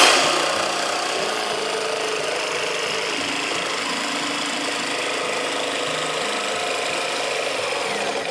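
A power tool makes a rough cut in wood for a utility stool, a loud, steady high-pitched whine and rasp that holds constant for several seconds after a sharp start, with no talking.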